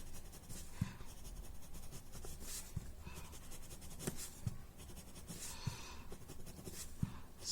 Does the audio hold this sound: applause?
no